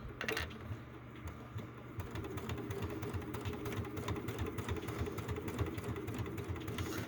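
A sewing machine stitching a bag runs with a steady rapid mechanical chatter, briefly pausing near the start and then continuing evenly through the rest.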